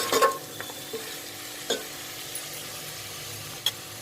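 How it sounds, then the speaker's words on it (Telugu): Vegetable biryani with mint and coriander is stirred in a pan, giving a soft, continuous frying hiss with a few sharp scrapes and knocks of the spoon spaced across the stretch. "ఇందులోనే పుదీనా, కొత్తిమీర అన్నీ యాడ్ చేసి ఇలా కలుపుకుందాం."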